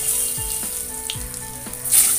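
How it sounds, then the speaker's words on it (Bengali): Cumin seeds and cut potatoes sizzle in hot oil, giving a continuous crackling hiss with a few low thuds as the pieces go into the pan. "আমি এবার দিয়ে দিচ্ছি এর মধ্যে জিরা ফোড়ন, কেটে রাখা আলু দিয়ে দিচ্ছি।"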